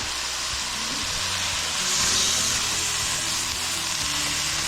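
Small potatoes frying in a pot for elk curry, giving a steady close sizzle with a broad hiss of hot oil and occasional stirring bumps, no talking over it.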